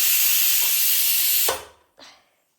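A pressure cooker cooking rice blasts out a loud, steady hiss of steam that cuts off abruptly, followed by one short, fading puff of escaping steam.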